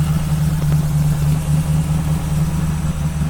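An older classic car idles a little fast with a carburetor that may not be fully closed, a steady low engine hum holding evenly throughout with no talk.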